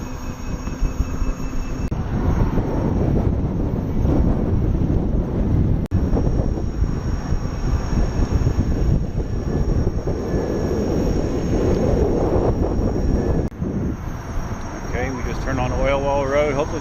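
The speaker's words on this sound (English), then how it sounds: "Got a lot of wind going on right now." Strong wind roars against the microphone during an electric unicycle and scooter ride on a KingSong 18XL and Dualtron 2 EX, a loud, steady buffeting rush that runs the whole time with little letup.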